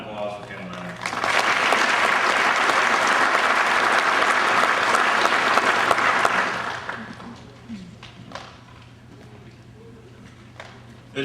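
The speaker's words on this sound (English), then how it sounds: "Please join me in a round of applause for Captain Lambeth." Audience at a military captains career course graduation ceremony claps loudly for about six seconds, then the applause thins to scattered claps over low room tone.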